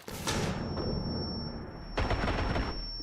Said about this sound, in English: Stun grenade out. Flashbang!